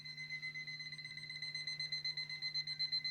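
A wake-up alarm bell rings in a Korean boarding school dormitory at dawn, a steady electronic pulsing tone repeating rapidly and evenly, moderately faint, with no talking.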